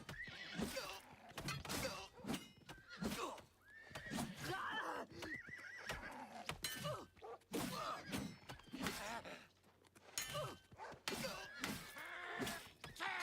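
Horse in Oblivion Remastered whinnies repeatedly while hooves clop and thud in irregular bursts, close and fairly loud, with scattered impact noises in between.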